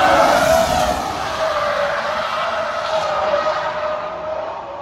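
Car tires skid and squeal loudly at a car meet, a sustained screech that fades slightly over several seconds.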